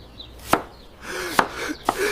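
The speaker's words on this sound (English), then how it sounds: "Cut the onion." A knife chops through an onion on a cutting board in three sharp, separate strikes with short pauses between them, close and clear.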